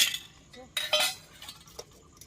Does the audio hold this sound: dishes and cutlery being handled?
yes